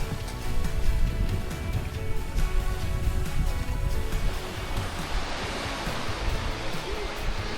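Continuous roar and wash of waves breaking on rocks in a small cove, steady and fairly close, swelling into a broader hiss of surf toward the end.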